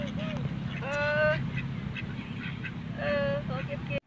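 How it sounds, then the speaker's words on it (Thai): A duck by the water's edge at Bueng Si Fai lets out two short runs of quacks, nearby and moderately loud, with a faint hum of background noise. "เฮ้ยเป็ดไม่กลัวคนด้วยไม่หนี"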